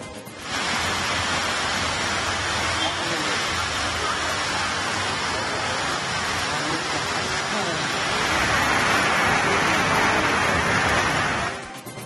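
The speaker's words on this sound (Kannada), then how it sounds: "ಬಿಟ್ಟು ಬಿಡದೆ ಸುರಿತಾ ಇರುವಂತಹ ಧಾರಾಕಾರ ಮಳೆಗೆ ವಾಹನ ಸವಾರರು ಹೈರಾಣಾಗಿದ್ದಾರೆ" Heavy torrential rain pours without letup, a dense, loud, continuous roar of water that holds steady for the whole stretch and swells slightly near the end, with no voices.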